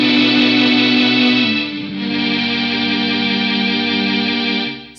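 Sustained electric guitar chords from the bridge pickup run through an Electro-Harmonix Mel 9 Tape Replay Machine on its strings setting, giving a lush bright string-ensemble pad that changes chord midway and fades out, with no talking.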